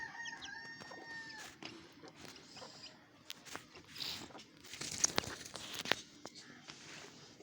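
A rooster crows faintly and from a distance at a rural farmyard. Scattered rustling and footsteps are heard nearby.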